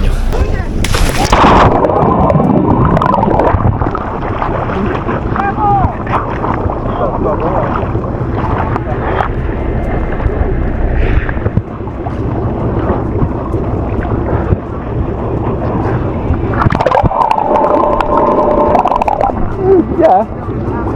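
A boat rides the sea off Madeira on a poor-weather day, with loud wind buffeting the microphone over a steady rumbling drone and occasional thumps, while people talk throughout.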